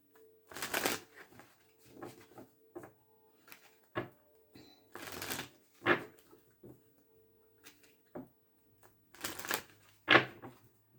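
Tarot cards are shuffled in several separate bursts of quick riffling and papery slaps, fairly close and clear against a quiet room, with short pauses between handlings.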